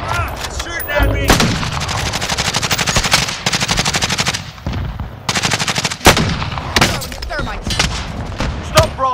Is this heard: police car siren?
no